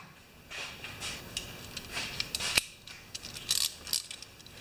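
A ratchet with a small socket works on a collapsed engine valve train, giving short bursts of quick metallic clicks with scattered clacks, close and fairly quiet, no voices.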